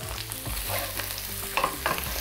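Salted mushrooms frying in a pan, a continuous close sizzle with stirring scrapes and a couple of louder clinks near the end.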